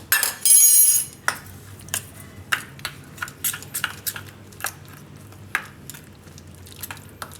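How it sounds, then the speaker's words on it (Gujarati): A spoon clinks and scrapes against a bowl while masala of chili flakes and Kitchen King spice is stirred together for a papad paneer roll filling, a loud rattle at first, then repeated light taps and scrapes. "તો આ મસાલો આપણે મિક્સ કરી લેવું ચમચીથી"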